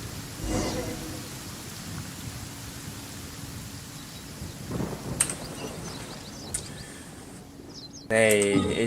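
Steady rain falls with rumbling thunder in the Genshin Impact video game, a continuous wash with a low roll near the start, and brief character voices come in toward the end.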